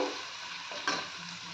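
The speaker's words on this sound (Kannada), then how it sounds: "ಮೂರು ಟೊಮೆಟೊ ಆನಿಯನ್ ಮತ್ತು ಟೊಮೆಟೊನ ಸ್ವಲ್ಪ ಫ್ರೈ ಮಾಡ್ಕೋಬೇಕು" Chopped onion and tomato frying in a pan for a spicy prawn gravy, a steady close sizzle with a soft stirring scrape partway through and no voices.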